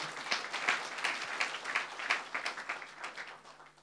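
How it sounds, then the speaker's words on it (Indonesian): A church congregation applauds steadily throughout, a dense patter of many hands clapping, moderately loud and continuous. "Beri tepuk tangan yang meriah."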